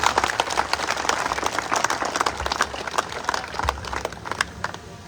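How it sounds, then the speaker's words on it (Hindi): A crowd at a Rajasthan University student hostel event claps steadily and energetically, dense applause filling the space without pause throughout. "जोरदार तालियां आज के आयोजन के लिए।"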